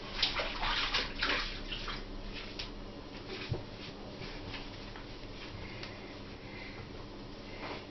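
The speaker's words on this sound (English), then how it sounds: "I'm just going to rinse my hands." Hands are rinsed under a running tap in a home kitchen while baking, a quiet steady stream of water with soft splashing and rubbing, fairly faint and close.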